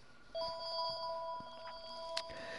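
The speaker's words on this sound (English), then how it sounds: "Don't pay attention to the phone whenever it rings" A phone ringing in a Minecraft survival game: a repeating electronic ring pattern of short tones, fairly quiet and alone with no talk.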